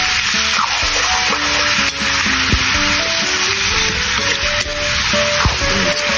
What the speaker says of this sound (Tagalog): Haluin lang natin yan.